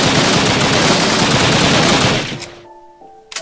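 Rapid, loud burst of MP40 submachine gun fire in a Minecraft WW2 gun mod, a continuous rattle lasting about two seconds before cutting off into quiet game tones and a faint click.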